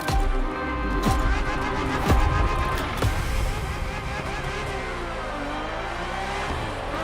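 Ferrari F50 engine note in The Crew Motorfest, a steady loud drone with shifting pitch and a few sharp impacts or gear changes early on, continuous throughout.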